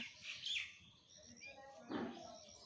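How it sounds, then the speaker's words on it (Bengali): Birds chirp and twitter on a morning outdoors, two brighter bursts of calls standing out against a quiet, steady ambient background. "পাখির কিচিরমিচির শব্দে সকাল,"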